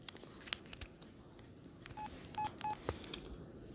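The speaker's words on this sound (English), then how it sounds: "This is a plastic feeling keypad. It lights up in white." Electronic keypad tones from an LG VX5500 Verizon flip phone with a plastic keypad, several short beeps pressed singly at an uneven pace, fairly close and clear over faint handling noise.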